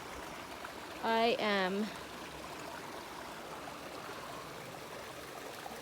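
A creek flows steadily beside a hiking trail in a soft, constant wash of running water, with a brief spoken phrase near the start.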